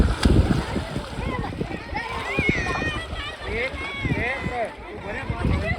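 People bathing in a river at Nilkanthdham, Poicha, splash and churn the water nearby, with loud, continuous splatter under excited voices talking throughout.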